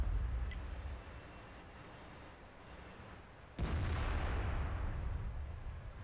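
A tank cannon firing in World of Tanks from a T-10 heavy tank: a heavy boom strikes partway through and its broad rumble lingers and slowly fades, following a quieter stretch of low engine-like drone.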